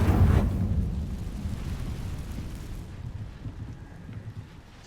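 An Incendio fire spell cast on dry vines in Hogwarts Legacy, a heavy rumbling whoosh that bursts loudly at the start, then settles into a low crackling roar that slowly fades.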